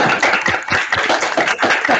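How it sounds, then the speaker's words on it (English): Team members at an audit communication session applaud the speaker together, a dense patter of many hands clapping close by, steady and without any voices. "I would request everybody to please join their hands and give a clap to Nandita ma'am"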